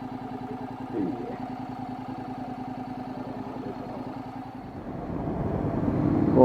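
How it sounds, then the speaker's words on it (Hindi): A Honda NC750S DCT motorcycle idles to warm up, its engine giving a steady, low, even rumble that grows slightly louder toward the end, with a voice heard over it. "मोटर बाइक इसीलिए ऑन करती है ताकि वो थोड़ा गर्म हो जाए"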